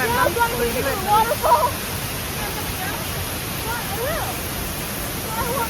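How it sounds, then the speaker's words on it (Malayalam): A waterfall roars as a steady, dense rush of white water close by, filling the whole stretch without a break, while voices talk faintly over it near the start. "നമ്മളിവിടെ വെള്ളച്ചാട്ടത്തിൻ്റെ അടുത്ത് എത്തിയിട്ടാണ്"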